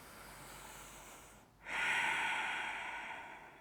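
A slow, complete exhale during a restorative yoga posture, heard up close: a soft breath, a brief pause, then a long, breathy outflow that slowly fades.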